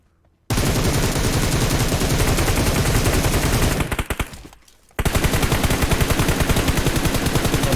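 Loud, rapid automatic gunfire fills a shooter video game session, with sustained bursts, a brief fading pause midway, then another long burst, with no talking over it.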